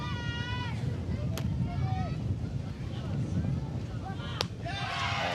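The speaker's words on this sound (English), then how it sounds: "It's been breezy off and on throughout the afternoon." Breezy wind buffeting the microphone at a softball park, steady low rumbling gusts throughout, with voices and whistle-like chirps heard over it.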